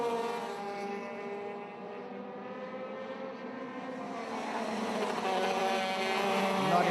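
Racing karts accelerate away from the starting grid in a WSK Euro Series race, a steady buzzing engine drone that swells louder toward the end as the pack passes close by.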